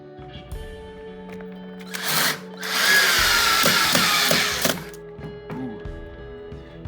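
A power drill whirs loudly for a few seconds while drilling wood, with a brief burst before a longer run, surrounded by quieter handling clatter.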